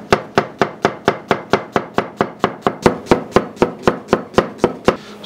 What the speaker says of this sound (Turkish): Piyazlık doğruyoruz.